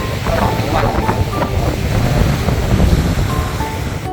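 Sea waves wash onto the shore in front of a beachfront pool villa in Hua Hin, a loud continuous surf roar mixed with wind buffeting the microphone.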